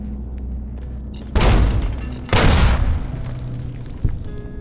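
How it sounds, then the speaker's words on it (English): Landmines go off in Fallout New Vegas, two loud booming blasts about a second apart, each with a rumbling tail, then a smaller thump near the end over a quiet low game ambience. "only to be met by my landmines"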